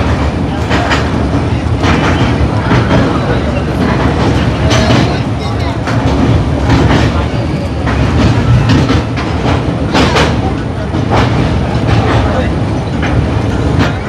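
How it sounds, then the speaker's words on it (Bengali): The Dhauli Express rolls toward Cuttack with a loud, continuous rumble inside the carriage, marked by repeated rhythmic clicks and clacks of the wheels over the rail joints throughout. "ট্রেন কিন্তু আমাদের এখন কটক ঢুকবে"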